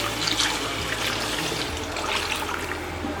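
Water poured into a pot of egg curry: a steady, broadband splashing and trickling pour that runs continuously for a few seconds, close and moderately loud, with no talk.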